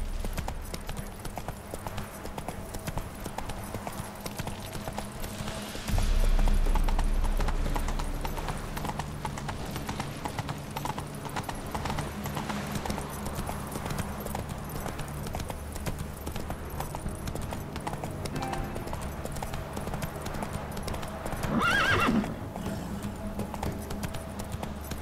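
Roach the horse galloping in The Witcher 3: Hearts of Stone, with a steady run of clip-clopping hooves, a louder low thud near the start and a brief whinny-like cry late, over continuous game ambience.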